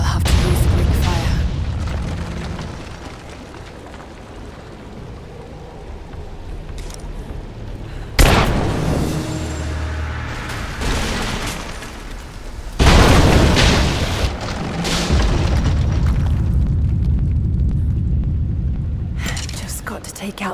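Explosions and collapsing debris in Rise of the Tomb Raider, with heavy booms and bursts striking at a few points over a continuous rumbling game soundscape, loud and close.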